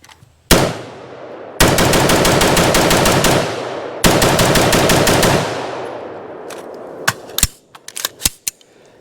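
Loud, close bursts of automatic fire from a Daniel Defense MK18 Mod 1 AR15 pistol at an outdoor range: two sustained rapid strings, then a scatter of sharp single shots with ringing decay.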